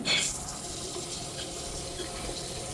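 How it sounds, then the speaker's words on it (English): Water pours steadily into a newly built home aquarium over sand, a continuous near, loud gushing splash with a brief stronger burst at the start. "So I will need to put water in here."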